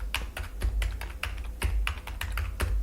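Someone enters a card number on a computer keyboard during accounting software data entry: about a dozen crisp keystrokes in an uneven rhythm, close and clear, with no talking.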